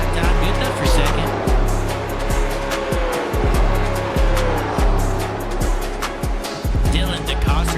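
A late model race car runs at Lucas Oil Indianapolis Raceway Park speedway, its engine note sweeping past at steady volume while a commentator talks over it throughout.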